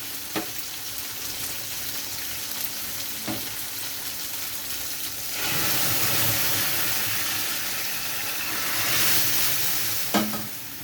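Chopped tomatoes sizzle in a hot pan, a steady frying hiss broken by a few sharp stirring clinks, with the sizzle swelling louder midway and staying close and continuous.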